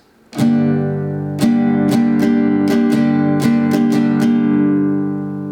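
An acoustic guitar is strummed in a steady down-up pattern, about ten ringing chords in a repeating rhythm, played up close with no voices.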